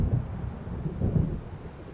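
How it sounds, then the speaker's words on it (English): Low rumbling thunder rolls steadily from an approaching storm in the video game Alan Wake, a dense, continuous boom with no voices. "It seems there's a storm coming."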